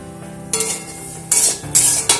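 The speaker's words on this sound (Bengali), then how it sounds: "আবারও ভালো করে মিশিয়ে নিচ্ছি।" Spiced egg chop filling is stirred in a pan, a few sharp metallic scrapes and clinks of a spoon against the pan over a soft background sizzle, close and loud in short bursts.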